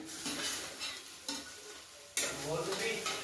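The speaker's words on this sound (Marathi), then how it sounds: "आणखी थोड्या वेळ परतून द्यायचं" Onion chutney sizzles in a pan with continuous loud frying hiss and brisk stirring, including a sudden scraping surge near the end.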